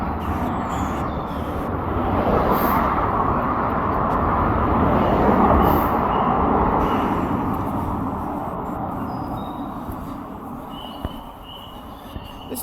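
A car approaches and passes on the road during a commute, a broad rushing swell that builds, peaks mid-way and fades, followed by quieter ambient traffic and a few faint clicks.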